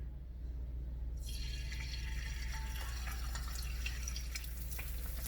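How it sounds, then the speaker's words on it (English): An egg hits an oiled hot pan and a dense, crackling sizzle starts suddenly, then keeps spitting and popping steadily close by, with no talking. "I'm gonna drop my egg in here."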